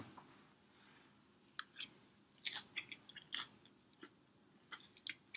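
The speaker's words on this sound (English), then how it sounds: "I don't know if you can hear it, but it's crunchy." Crunchy chewing of chilaquiles up close, a quiet stretch followed by a run of crisp, irregular bites and crunches with no talking.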